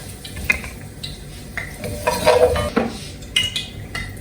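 Garlic is sautéed in plenty of oil for pancit while a utensil stirs and scrapes the pan, with soft sizzling under clattering metal taps and scrapes close by.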